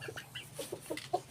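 Chickens cluck softly in short, scattered calls at close range, a quiet run of a few clucks in a backyard coop.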